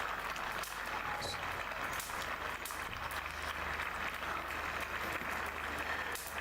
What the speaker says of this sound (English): Your clapping is funny to me, like you are clapping in the village.